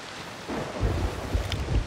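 A thunderstorm rolls in the pirate game Sea of Thieves, low rumbling thunder building after a quiet start with wind and rain noise, fairly close and without voices.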